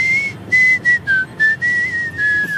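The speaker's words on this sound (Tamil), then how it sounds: "விசில் மூலமாக எந்தவித பாடலையும் துல்லியமாக இசைக்கும்" A person whistles a melodic tune alone in clear, sustained phrases broken by short breaths, the pitch gliding slightly between notes, close and fairly loud.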